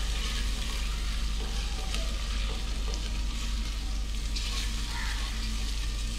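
Tomatoes fry with spices in a pan for a masala fish curry, giving a steady, dense sizzle with faint stirring over a low background hum. The sizzle is continuous and close, and no one speaks.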